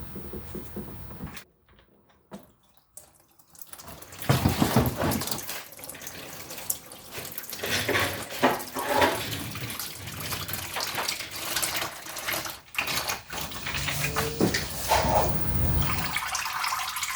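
Engine oil drains from a VW Touareg TDI into a catch pan, a steady liquid pour close by after some clattering handling noises, running continuously with varying splashing intensity.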